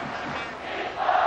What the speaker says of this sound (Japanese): さあ日本コール。